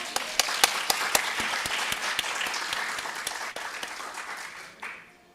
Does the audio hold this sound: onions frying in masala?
no